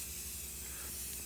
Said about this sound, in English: we're spray painting our box